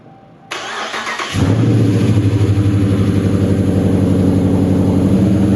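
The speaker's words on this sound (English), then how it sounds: "I'm going to have to start the car, and I'll show you the startup and shutdown modes" A 2019 Dodge Charger engine cranks briefly and fires up, then settles into a loud, steady idle with a throbbing low rumble, close to the microphone.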